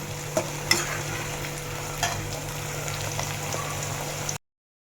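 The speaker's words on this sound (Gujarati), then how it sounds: "એટલે બધું આપણે એકદમ સરસ તેલમાં તળાઈ જાય અને સરસ મજાનું સાતળી જાય." Garlic, ginger, onion and tomato fry in oil in a pan over medium heat for a cashew curry, a steady close sizzle broken by a few sharp stirring knocks, with no talking.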